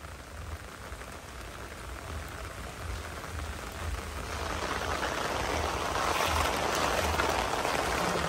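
Heavy monsoon rain pours steadily over a flooded village, a dense continuous hiss that grows louder and heavier toward the end, with no voices over it.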